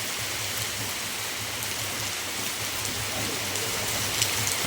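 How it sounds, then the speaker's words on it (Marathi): Steady monsoon rain falls and patters on surfaces in a constant hiss during Dahi Handi festival preparations, with a low hum underneath and no one speaking. "आज पाऊस बघा दहीहंडीला पाऊस बघा मित्रांनो"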